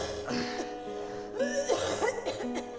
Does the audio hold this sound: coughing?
yes